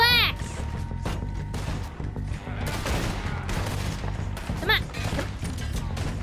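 Gunfire in Red Dead Redemption 2 rings out in a fast, scattered volley of sharp cracks and heavy thuds, with a voice speaking briefly between the shots.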